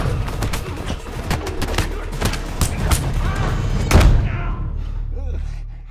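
Rapid gunfire from a film scene about a secret agent posing as a student pops in quick bursts of sharp shots with heavy booms, peaking near the end before fading, over a loud score and effects.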